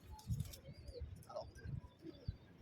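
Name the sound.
domestic pigeons cooing in a pigeon loft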